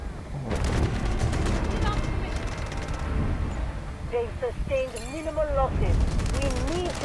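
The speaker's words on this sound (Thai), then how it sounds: "อัตราในการลั่น เร็วแบบนี้มันก็ มันก็มีข้อเสียของมันนะครับคุมปืนยากด้วยครับ" Rapid automatic gunfire in the Delta Force shooter game rattles in dense bursts, with wavering tones and a voice speaking between and over the shots.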